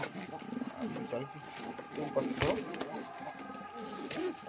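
A red Lotan pigeon coos in a loft, low throaty calls repeating close by amid rustling and other birds, while someone talks over them.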